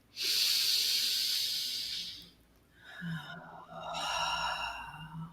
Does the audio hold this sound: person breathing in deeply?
yes